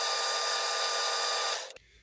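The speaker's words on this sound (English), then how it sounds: "So I've just got another deep hole to drill here." Steady, loud whirring of a power drill boring a deep hole in 5/8 inch stock in a workshop, running continuously before winding down and stopping abruptly.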